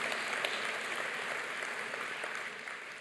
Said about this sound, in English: you can applaud that one